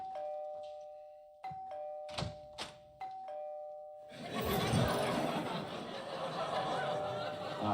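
A two-tone doorbell chimes alone at the door in a sitcom scene, ringing several times in quick succession before a burst of studio audience laughter swells up and continues.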